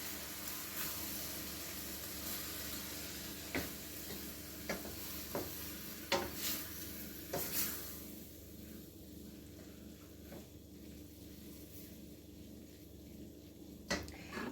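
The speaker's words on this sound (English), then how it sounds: "Stir." A spoon stirs taco seasoning and diced tomatoes with chilies in a casserole, giving soft scraping and gentle sizzling with a few sharper knocks against the dish, close and unaccompanied by speech.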